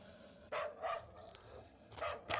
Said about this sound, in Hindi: ये देखो वापस कुत्तों की आवाज़ आ रही है।